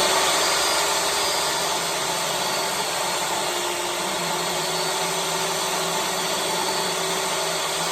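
A table saw rips along the fence through a rough-cut wood slab, a loud, steady whining cut with hissing blade noise sustained evenly throughout, no talking.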